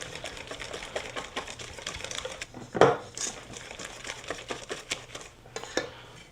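Corn fritter batter being mixed thoroughly in a bowl, a rapid steady patter of utensil strokes against the bowl with one louder knock partway through, close and without speech.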